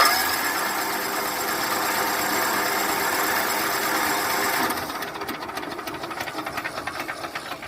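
An old Kohler Command engine in its final run before scrapping roars with a harsh, hissing, rattling drone, then shifts abruptly to a rougher, pulsing knock as it winds down near the end.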